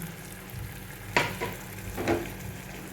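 Water splashed into a hot pan holding tomato paste, with a couple of sharp hissing bursts of sizzle and stirring over a low, steady frying background.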